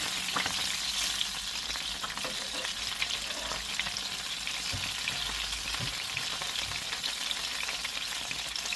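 Sesame oil sizzling in a pan during a shrimp and broccoli stir-fry, a dense, steady, close hiss and crackle with stirring scrapes running throughout and no talking.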